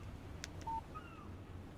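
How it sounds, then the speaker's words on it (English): A soft, quiet electronic phone alert chimes in the Alan Wake video game: a short beep and a couple of faint sweeping tones over a low background hum, with no voices. "Text message from Barry"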